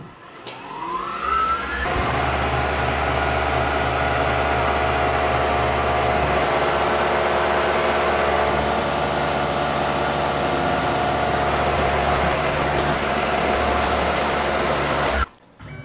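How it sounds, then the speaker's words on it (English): Tormach PCNC mill cutting a steel bracket with a 1/8 end mill, giving a loud, steady high-pitched whine and broadband roar with a constant tone that runs unbroken for most of the stretch before stopping abruptly. "And a 1/8 end mill just to clean it up."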